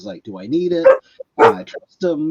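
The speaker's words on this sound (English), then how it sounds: "That was our dog." A startled dog gives a couple of short, sharp barks in the background while a person keeps talking over them.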